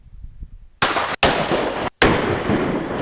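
A pump-action shotgun fires slugs at a house facade cladding: loud sharp blasts with a roaring broadband body, three in quick succession, the second and third sustained, following quieter rumbling noise.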